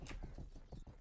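Horse hooves clip-clop in the medieval video game Rustler, a steady rhythmic gait of close, fairly loud, evenly spaced hoofbeats with no talking.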